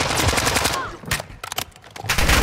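Rapid bursts of EBR rifle fire in Call of Duty: Modern Warfare II multiplayer, loud and close, with dense rattling shots and brief gaps between volleys.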